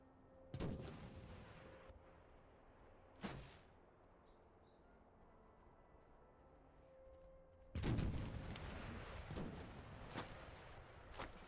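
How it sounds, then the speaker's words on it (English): Cannons boom in the Master of Command strategy game, set among US Continental Army forces, with a couple of loud blasts early, then a heavier rolling volley of several overlapping shots fading into rumble. "Okay, all cannons are firing and all cannons are missing."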